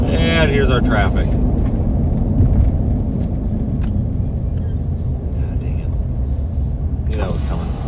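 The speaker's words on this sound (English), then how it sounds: "And here's our traffic." Steady low rumble of dense road traffic in a gridlocked jam during extreme weather, cars idling and creeping along continuously, with a person talking over the engine noise throughout.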